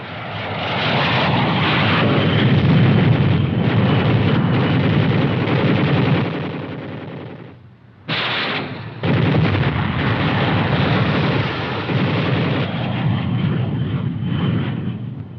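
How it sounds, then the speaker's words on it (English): Military aircraft in a 1950s US Army armored combat demonstration strafing with machine guns and rockets: loud, continuous engine roar and dense gunfire with a brief drop near the middle, no voices. "The next flight uses machine guns and rockets."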